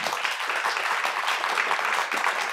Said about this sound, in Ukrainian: Я просто чекаю закінчення аплодисментів.